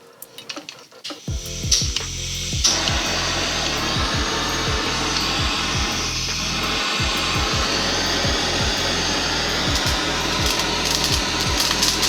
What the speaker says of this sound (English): And this is just a culinary butane torch.